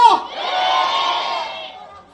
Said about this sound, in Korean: 조금 있다가 이재명 다음 대표 오시면 열정적으로 환호해 주실 거죠?